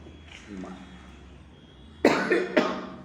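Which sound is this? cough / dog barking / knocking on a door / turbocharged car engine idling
cough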